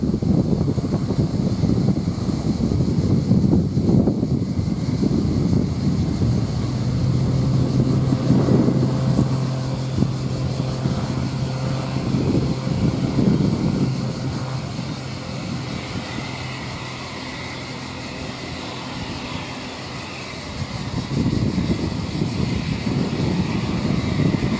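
A light aircraft rolls and takes off from runway 17 at Cannes Mandelieu, a steady engine drone under heavy wind rumble, with a rising tone in the middle that fades before the noise swells again.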